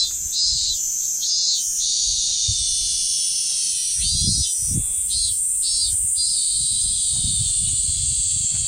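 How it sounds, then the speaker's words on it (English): A cicada sings in a Tokyo allotment in summer, a loud, continuous high-pitched buzzing drone that pulses in short bursts over low rustling and handling noises close by. "Cicada, that's maybe one of the first I've heard this summer."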